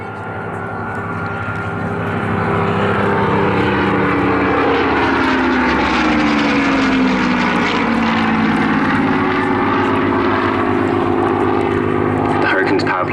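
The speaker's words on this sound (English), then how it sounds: "The Hurricane's power plant today is a V12 Merlin engine with a supercharger fitted" A Hawker Hurricane's supercharged V12 Merlin engine drones loudly and steadily at an airshow flypast, its pitch sliding downward as it passes, with a voice faintly underneath.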